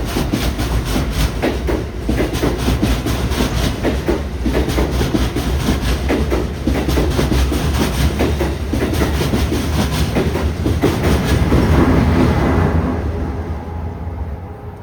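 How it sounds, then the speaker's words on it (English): An ACS-64 electric locomotive hauls a southbound express train past at close range, a loud steady roar with rhythmic clickety-clack of wheels over rail joints throughout, fading slightly at the end. "Those ACS 64s, they sound so cool."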